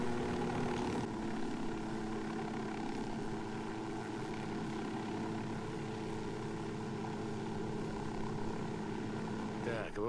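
A damaged, smoking helicopter in Ghost Recon Wildlands keeps up a steady rotor and engine drone for the whole stretch, even and moderately loud, with faint game sounds mixed in.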